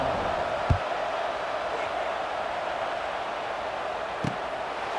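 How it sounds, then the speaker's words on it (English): Steady stadium crowd buzz from the EA Sports College Football 26 video game, a constant broad roar after a touchdown, with a couple of brief thuds and no clear cheering peaks. "this crowd is buzzing after that last score"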